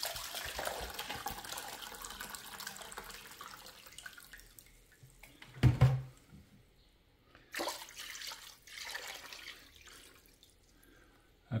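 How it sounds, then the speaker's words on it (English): White vinegar pours in a steady stream, with louder splashing gushes midway and again later, and no voices. "Do 4 cups of vinegar, white vinegar."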